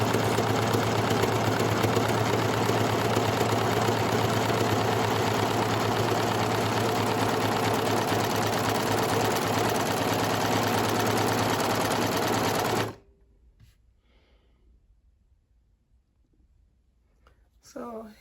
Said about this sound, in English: Make sure your pressure foot is down and start stitching.